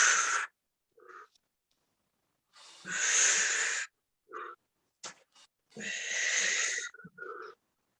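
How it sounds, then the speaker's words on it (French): Strong, breathy exhalations and inhalations during an upper-body workout, several loud puffs of air in an uneven rhythm separated by brief silences, close to the microphone with no talking. "On souffle, on inspire en haut."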